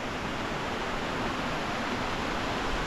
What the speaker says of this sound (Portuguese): Cachoeira Barra Azul, cachoeira muito bonita.